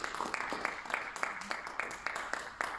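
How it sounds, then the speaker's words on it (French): A church congregation applauds and cheers, rhythmic clapping pulsing at a steady beat throughout, moderately loud and fairly close, with crowd voices mixed in. "je pense que c'est des acclamations pour moi"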